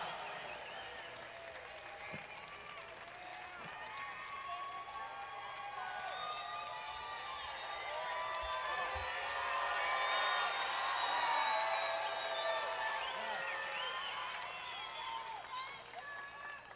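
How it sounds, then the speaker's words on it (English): A crowd at a funeral applauds the children with steady clapping that swells to a louder peak midway and then eases. Scattered cheers rise above it, and voices murmur underneath throughout. "Give them some applause."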